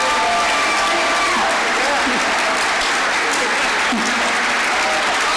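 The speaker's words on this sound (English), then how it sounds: "Let's hear it for them." Loud, sustained crowd applause with scattered cheers and whoops for honorees entering at an awards event, steady throughout the short stretch.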